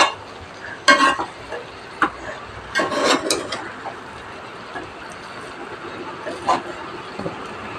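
Carrot thoran with onions being stirred in a pan, with scraping and clattering strokes of the spoon in scattered bursts over a steady sizzle of frying close by.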